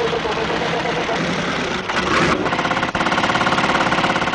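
A four-cylinder motorcycle engine from 1950 cranks and catches, settling into a steady, rhythmic idle that chugs loudly and close by.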